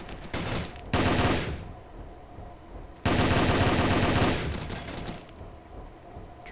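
Sustained automatic gunfire rattles through a Warzone video game match, two loud close bursts of rapid fire with quieter shots continuing between and after them.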